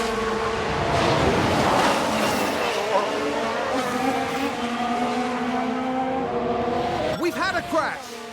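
Aston Martin Formula One car in F1 Manager 2022 loses control and crashes: a high engine whine and tyre noise build up, then a brief burst of scraping and impact near the end, with commentary running through.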